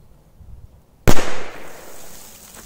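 A firecracker explodes inside an animal burrow: one loud, close, sharp bang that breaks an otherwise quiet outdoor background, followed by a rolling echo and scattered debris settling.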